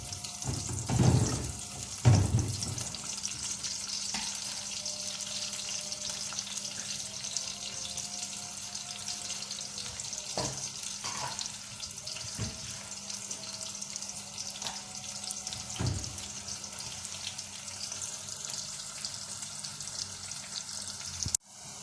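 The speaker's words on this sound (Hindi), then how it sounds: "अब इसको थोड़ा ब्राउन करेंगे प्याज को" A medium onion browning in oil in a pressure cooker, a steady close hiss and crackle of frying that runs throughout, with a few louder clanks near the start.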